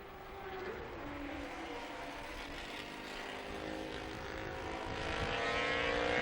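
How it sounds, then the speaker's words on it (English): Two-stroke racing motorcycles scream around Estoril circuit at a classic race meeting, a distant, high-pitched engine drone with rising and falling pitch sweeps that grows louder toward the end. "The sound of 2 strokes back at this racetrack"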